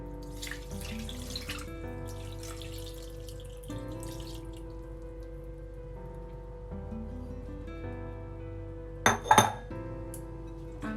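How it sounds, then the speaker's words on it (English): Broth pours steadily over chicken in a Xiaomi Mijia rice cooker pot with a soft trickling flow, followed by a brief clink of a utensil against the pot near the end. "Then pour the broth on top of the chicken."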